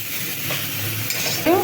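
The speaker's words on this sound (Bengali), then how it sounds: "এবারে একটু নুন আর অন সামান্য একটু হলুদ দিয়ে ভেজে নেবো" Vegetables for shukto frying in a pan with salt and turmeric sizzle steadily, with stirring scrapes and a light clink of a utensil near the end.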